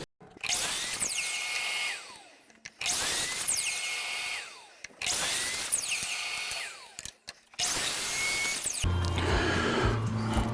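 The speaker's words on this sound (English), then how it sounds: "I want to sand everything while I have these bigger parts to hold on to" Power sanding of larger wooden parts for a DIY toolbox: four loud, close bursts of sander whine, each lasting about two seconds with short pauses between, then a steadier machine hum to the end.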